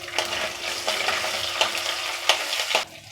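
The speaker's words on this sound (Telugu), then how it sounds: "ఇప్పుడు ఆవాలు వేసుకోవాలి, జీలకర్ర వేసుకోవాలి. ఇప్పుడు వేరుశనగపప్పు కూడా వేసుకోవాలి" Mustard seeds, cumin, peanuts and chilies sizzle and crackle steadily in hot oil, with a few sharper pops and spoon scrapes standing out before the frying noise drops away near the end.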